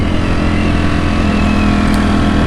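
A Ducati Streetfighter V4 motorcycle ridden around town at low RPM, giving a steady, loud engine drone with a low pulsing rumble and no talk.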